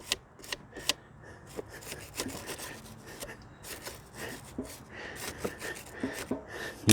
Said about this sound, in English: Take a wire brush and knock some of this stuff off first.